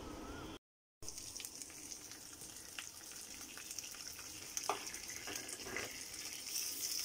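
Ginger, green chilies and curry leaves sizzle in hot oil with a steady crackling fry, close but fairly quiet, after a brief gap of silence near the start.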